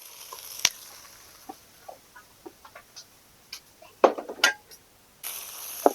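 Garlic and scallions stir-fried in a wok: sparse, quiet clacks and scrapes of a spatula against the pan, with faint frying underneath.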